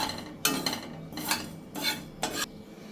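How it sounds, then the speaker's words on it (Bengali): Mustard seeds dry-roasting in a pan are stirred with a utensil, four distinct scraping, rattling strokes in a loose rhythm, close and clear, with quieter pauses between them and no talking. "আর সর্ষেটা দিয়েছি, এটা একটু শুকনো খোলায় ভেজে গুঁড়িয়ে নেবো।"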